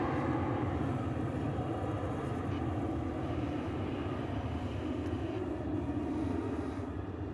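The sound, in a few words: Airbus A380 approaching at Dallas/Fort Worth airport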